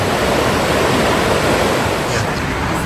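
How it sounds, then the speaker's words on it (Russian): The Bzyb river in Abkhazia rushing past, a loud, constant broadband roar of fast water that fills the whole stretch without pause, close and steady. "Смотрите, какая красивая река."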